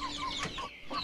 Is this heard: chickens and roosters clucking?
yes